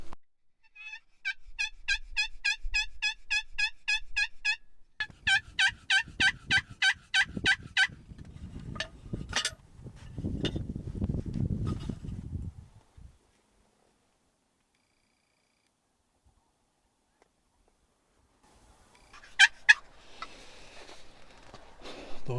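Rapid rhythmic yelping calls of wild turkey hens in quick runs in South Dakota, followed by softer clucks and rustling, then a long quiet stretch and a few distant calls.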